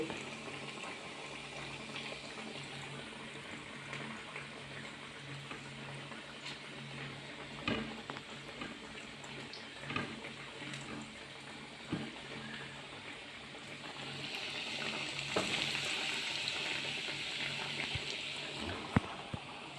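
Raw plantain cutlets frying in coconut oil, a steady soft sizzle and bubbling hiss that carries on throughout with occasional louder pops and crackles, no talk.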